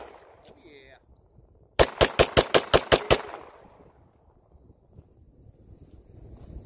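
Eight sharp gunshots from synthetic ceramic bullets fire in a quick, fairly even burst, loud and close, ringing briefly before fading into open-air wind noise.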